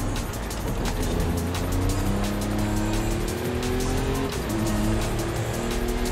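Ford Bronco truck driven in Forza Horizon 5 from cockpit view: a loud, steady engine drone with rising gear tones and tire noise fills the whole stretch, with no talking.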